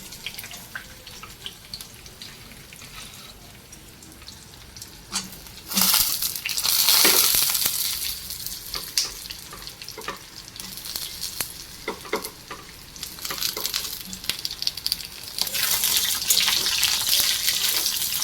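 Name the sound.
ridge gourd frying in hot oil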